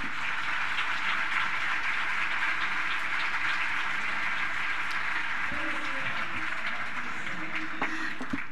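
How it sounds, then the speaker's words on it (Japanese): Audience applause at a Hyperloop presentation, a steady broadband clatter of clapping sustained evenly across the whole stretch, with a faint voice near the end. "本当に自然な拍手いただきました。"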